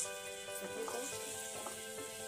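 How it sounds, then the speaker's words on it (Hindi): Tomato paste sizzles and fries steadily with spices in a pan for Indian chole, giving a constant hiss with occasional stirring scrapes close to the ear, while a faint steady tone runs underneath. "अब हम इसमें 2 टमाटर के पेस्ट डालेंगे।"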